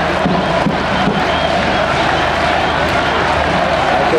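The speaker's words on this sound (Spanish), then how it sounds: "La gente vitoreando a Chávez." A large outdoor crowd cheers for Chávez at a protest counter-summit in the rain, a dense continuous roar of voices and shouts, loud and close.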